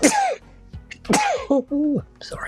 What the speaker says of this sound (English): That was a sneeze from deep.